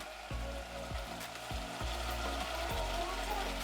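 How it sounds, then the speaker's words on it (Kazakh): Liver frying in a pan, a steady close sizzle with a regular thumping rhythm beneath it and no talking. "Бауырды 2 минуттай қуырамыз."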